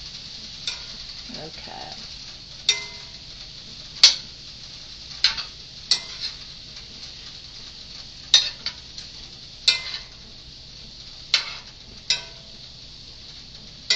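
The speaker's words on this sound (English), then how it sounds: "Let me turn the heat off while I stir it." Beef and broccoli stirred in a pan with the heat off, a faint hiss under repeated sharp scrapes and clicks of a utensil against the pan at irregular intervals, with one brief spoken word.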